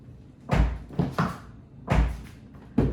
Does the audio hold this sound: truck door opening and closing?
yes